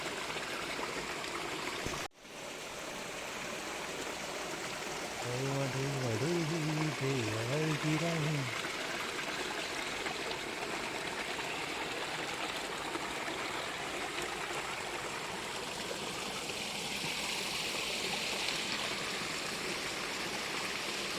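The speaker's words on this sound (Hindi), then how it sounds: "यहाँ से पानी की आवाज़ आ रही है, पानी है" Clear spring water flows and gurgles in a steady, close rush at a mountain village spot in Uttarakhand, a constant hiss with brief hummed voice near the start.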